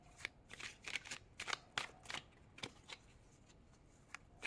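Tarot cards drawn from a deck, a close series of soft papery flicks and slides in quick irregular bursts, with no talking.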